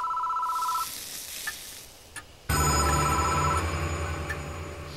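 A telephone bell rings in the Japanese horror game Shiin at a phone box, a steady trilling ring at first, then a sudden loud burst of harsh, sizzling noise.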